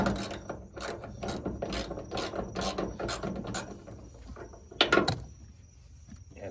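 A threaded fitting on a car aerial bracket being turned by hand, heard as a series of rhythmic clicking, ratchet-like grinding strokes, close and steady, before a brief louder clatter and a quieter tail with a faint high whine.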